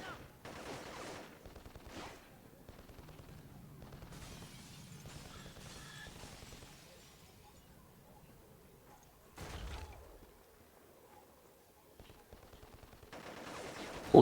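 Fully automatic weapon fire in a video game, bursts of rapid shots coming in clusters with brief pauses and a heavier boom near the end, moderately loud throughout.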